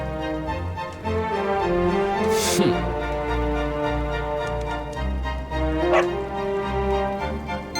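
A cartoon dog barks and yips in short bursts over a steady musical score, with a brief whoosh in the middle, the dog sounds fairly close and loud against the music.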